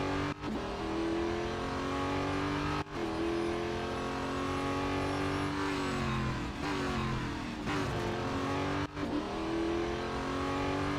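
A race car engine in the Real Racing 3 video game drones loudly and continuously, pitch climbing and dropping through gear changes with brief cuts between shifts, no talk.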